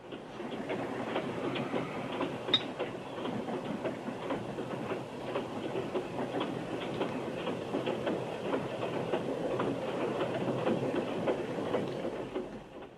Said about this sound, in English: I love the train disappearing there at an oblique angle into the distance.